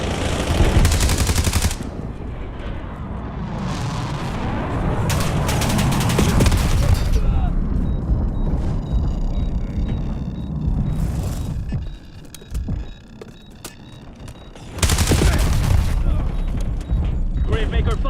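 Gravemaker gunfire in GTA V: long sustained bursts of loud, rapid automatic fire with heavy booms, a brief quieter lull with mechanical clicks, then another intense burst, under occasional talk.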